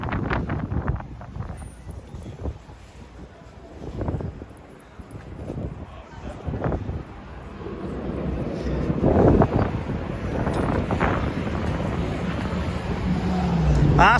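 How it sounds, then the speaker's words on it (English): Strong wind blows along a Manhattan street, buffeting the microphone with gusty, uneven low roaring that swells and eases, mixed with faint city traffic. "It is really windy out here."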